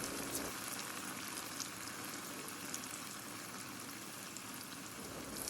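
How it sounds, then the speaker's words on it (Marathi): Batter-dipped potato slices for bhaji fry in hot oil, giving a steady, faint hiss and crackle that runs unbroken throughout. "पिठामध्ये डीप करून बटाट्याचे स्लाईस तेलामध्ये टाकणार आहोत"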